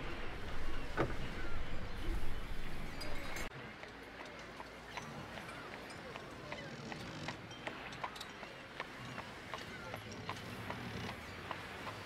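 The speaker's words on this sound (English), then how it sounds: "you can't just be on a ship and have that horse going by." Horse hooves clip-clopping as a sound effect, a steady rhythmic patter of light knocks over a busy ambient bed, fairly quiet and continuous throughout.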